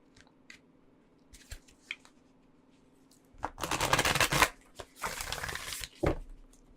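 Oracle cards are riffled and shuffled in a few crisp bursts, with scattered soft card taps and handling sounds between them, close and fairly quiet, with no talking.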